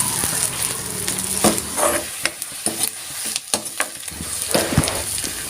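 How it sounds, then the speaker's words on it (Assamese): Onions fry in hot oil in a pan while being stirred, giving a steady close sizzle broken by sharp scraping and clattering strokes of the spoon against the pan. "পিঁয়াজ দিলোঁ তেলত, লৰাই লৈছোঁ অলপ।"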